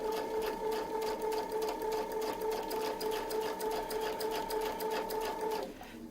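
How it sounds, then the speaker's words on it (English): A sewing machine stitches fabric guided by a Westalee Mini Spin-e-fex template, a fast, even mechanical whir with rapid rhythmic needle beats running steadily for several seconds before stopping abruptly, close and clear. "So we'll just sew the first one."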